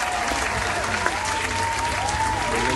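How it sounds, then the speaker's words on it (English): Steady applause from a crowd fills the space, dense continuous clapping at moderate loudness with no clear voices above it. "Let's have a round of applause"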